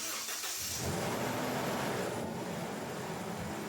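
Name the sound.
Toyota Innova engine starting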